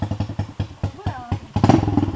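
Trail motorcycle engine revving while the bike is stuck, giving a rapid pulsing putter that rises into a louder, harsher rev near the end, with a voice briefly heard over it.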